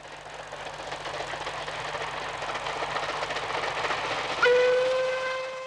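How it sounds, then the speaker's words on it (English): A steam train labors steadily up a gradient on the Settle-Carlisle Railway with a dense, rhythmic chuffing roar, then a loud whistle cuts in near the end and holds. "the trains are working hard. They're not speeding, they're really climbing"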